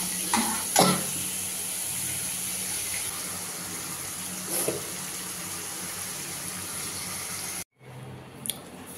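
Water pours steadily from a tap into a pan of fried potatoes cooking for a spiced potato curry, a continuous close gush with a couple of brief knocks, then a sudden cut and a quieter tail.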